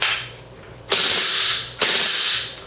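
A KWC CO2 gas blowback airsoft gun firing full auto, three loud, sharp mechanical bursts close up, each one a rapid rattle of cycling slide and gas release, separated by short pauses.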